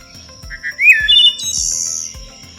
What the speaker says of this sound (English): the wood thrush also has one of the most beautiful songs of any birds in the watershed.